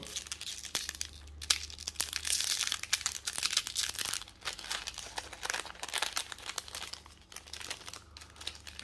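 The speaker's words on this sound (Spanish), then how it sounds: "Vamos a abrir otro sobre más." A pack of anime trading cards being torn open and handled, busy close-up crinkling and ripping of foil wrapper in irregular bursts, with no talking.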